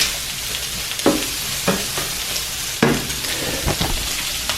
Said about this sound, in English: these shrimp are just about finished up here. I'm gonna go ahead and take those off the heat